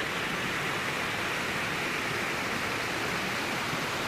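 Strong mountain stream rushing through a rocky gully, a loud, steady broadband roar of fast-flowing water close by, continuous and unbroken with no voices.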